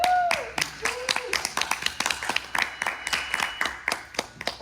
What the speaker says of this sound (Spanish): Brindémosle un fuerte aplauso.